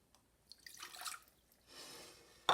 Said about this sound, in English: I'm going to add half cup of water